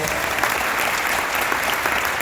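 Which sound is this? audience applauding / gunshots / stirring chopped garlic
audience applauding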